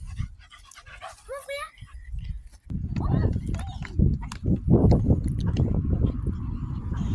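Dogs let off leash in a fully fenced park give high whimpering yelps, then a burst of louder barking and panting mixed with people talking nearby.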